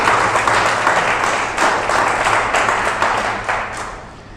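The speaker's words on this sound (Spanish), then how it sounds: "Démosle ese aplauso a nuestro Dios." Congregation at a Sunday church service applauding, a dense wash of many hands clapping that holds steady and then gradually fades away, with no voices over it.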